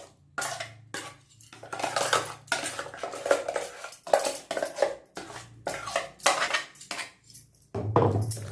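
Leftover idli batter of ground urad dal is scraped from a steel mixer jar into a vessel, giving repeated metallic scrapes and clinks of spoon against steel in short bursts, close and fairly loud, with no talking.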